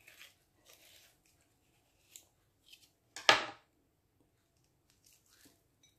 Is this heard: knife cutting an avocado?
yes